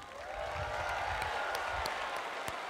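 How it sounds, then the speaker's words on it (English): Audience applause from a crowd of Boy Scouts at the 2017 National Boy Scout Jamboree, a steady dense wash of clapping that holds evenly throughout, with a few sharper claps standing out. "Everybody give a round of applause to Connor for taking care of my trusty steed"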